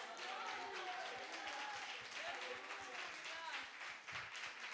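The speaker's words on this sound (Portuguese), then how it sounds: "dar uma salva de palmas misturado com aleluia para Jesus" Church congregation clapping and cheering together during a worship service, a steady dense wash of applause with mixed voices running throughout.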